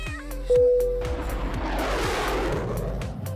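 A cat lets out a single loud, drawn-out meow with a rising and falling wail, close and clear over a steady low rumbling background that keeps going after the call.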